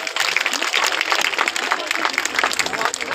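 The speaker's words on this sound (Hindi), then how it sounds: "तालियां होनी चाहिए।" Applause from an audience at the inauguration of a Rural Development Scheme office in Bundi, a dense crackle of many hands clapping steadily, with a voice faintly mixed in underneath.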